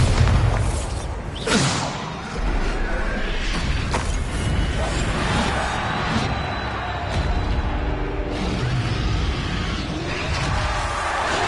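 Bombarda explosion spell in the Hogwarts Legacy video game, loud booms and bursts amid ongoing combat effects, with whooshes and a dense, sustained rumble.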